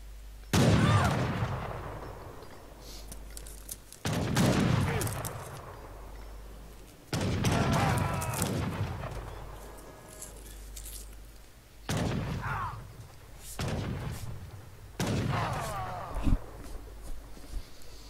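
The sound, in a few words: musket gunshots at a villager in video game Age of Empires 3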